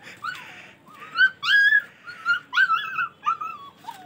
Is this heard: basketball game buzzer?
no